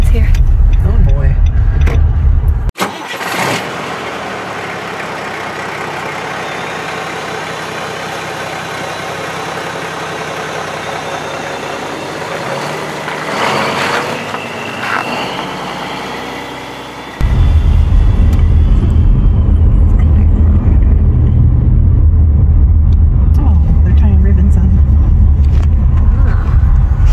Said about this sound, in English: There's some trucks lining up already.